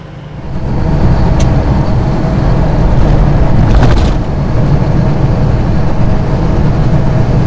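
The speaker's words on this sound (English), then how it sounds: "So far, the truck seems to be running pretty good." A pickup truck drives along a highway, its engine and road noise forming a loud, steady rumble with a brief whooshing swell midway, close and continuous without speech.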